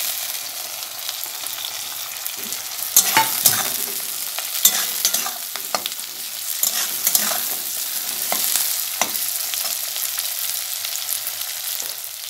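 Vegetables, including soybean chunks, cauliflower and potato for a chowmein, fry steadily in a hot pan with a continuous sizzle, broken by a series of sharp scrapes and clatters as they are stirred, with no voices.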